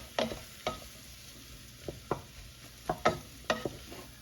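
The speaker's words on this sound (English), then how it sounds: "So I'm going to saute this" Mushrooms are stirred in a hot pan on a stovetop, a soft sizzle broken by about eight sharp scraping strokes of a utensil at irregular intervals, close and alone.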